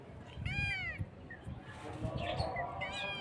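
A cat meows loudly and close by, three drawn-out calls with gaps between them, while someone talks over a busy background of household noise.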